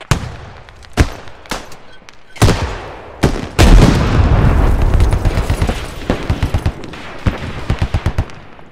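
Rocket impacts in the Squad video game's Middle East Escalation mod: a string of loud, sharp blasts with booming low rumble, followed by a sustained roar and rapid repeated cracks toward the end, with no talking.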